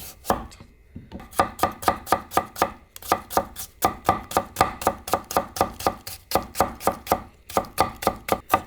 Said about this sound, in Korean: 당근 있으면 조금만 다져 넣을게요